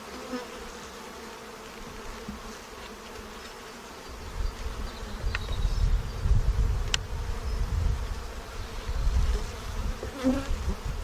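Honeybees hum steadily around an open hive as a frame of drone cells and sealed brood is lifted and checked, the buzzing close, swelling louder halfway through and holding dense and continuous.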